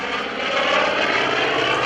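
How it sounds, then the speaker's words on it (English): An F4U-5NL Corsair propeller fighter roars past at an airshow, a loud, steady piston-engine drone with no voices over it. "F4U-5NL Corsair."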